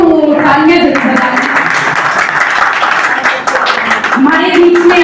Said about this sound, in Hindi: जिसकी हाथ खाली हो वो तालियां बजाए।